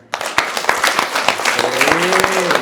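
An audience claps in sustained applause, many hands together, with a voice briefly rising over the clapping near the end.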